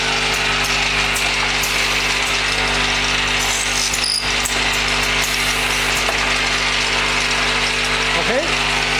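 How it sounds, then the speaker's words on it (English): A wood dowel double-end chamfer machine runs with its cutter spinning, giving a loud continuous mechanical drone with a steady hum and faint clicks throughout. "start the cutter and press the start button."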